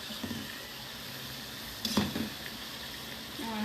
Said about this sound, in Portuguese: Então aqui vai fritando